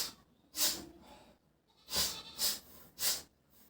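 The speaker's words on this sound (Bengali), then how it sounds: "স্যার বারবার নাক টানছেন কেন?" A man with a cold sniffs hard through his nose four times. The first sniff stands alone, and three more follow in quick succession after a pause, each sharp and close.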